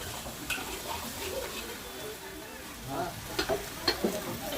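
Schezwan chutney being stirred in a pan: a continuous soft sizzle with scraping and sloshing stir strokes, growing more pronounced toward the end, with no speech.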